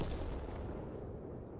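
A deep, booming tank cannon report from the World of Tanks video game, a single heavy blast that decays into a rumbling tail, played quietly.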